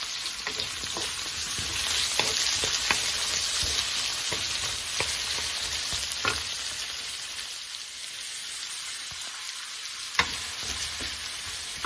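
Ginger frying in a pan for Filipino chicken tinola: a steady, dense sizzle with occasional stirring clicks and scrapes, close up and continuous, with no voices.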